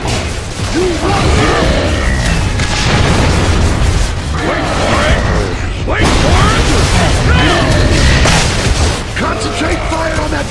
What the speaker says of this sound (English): Bernie's gonna push the reserve fuel tank into the yard, and we're gonna blow it sky high